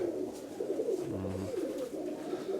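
Pigeons coo in a loft, a low repeated throaty call standing out near the middle over a steady background murmur of other birds.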